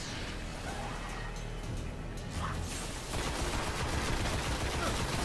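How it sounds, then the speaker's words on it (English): Assault rifle fire in the video game Destiny, a dense crackle of rapid shots that swells louder in the second half, mixed with game noise throughout. "Should go around, use the assault rifle."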